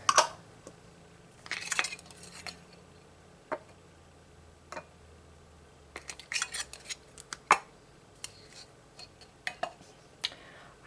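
Metal lids set onto glass canning jars of home-canned corned beef hash at a kitchen counter, giving scattered sharp clinks and taps in irregular bursts, close and fairly quiet, with no talking.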